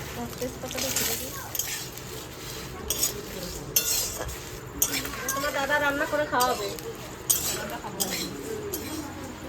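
Whole spices dry-roast in a hot wok, stirred with light scrapes and occasional clinks of a utensil against the pan, while people talk over the cooking.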